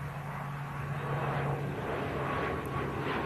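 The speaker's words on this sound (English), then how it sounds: "Aer Lingus, ATR-72, rotating really early, as per usual for the" An Aer Lingus ATR-72 turboprop airliner takes off at Manchester Airport, producing a steady, moderately distant propeller and engine drone with a low tonal hum and broad rushing noise throughout.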